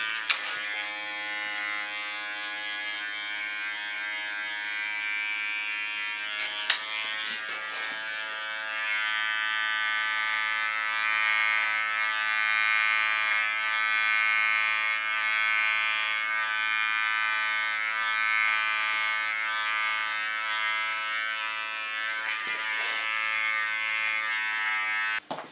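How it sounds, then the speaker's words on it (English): A small electric hair clipper trims and cleans the contour of an ultra-short feminine haircut, buzzing steadily and close for the whole stretch, with a brief click near the start and again near the end. "With my small clipper, I clean the contour."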